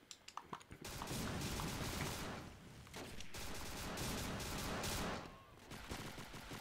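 Dense gunfire from a Roblox World War II shooter game, rapid volleys and bursts filling the whole stretch after a few sharp opening shots, loud and continuous with brief dips.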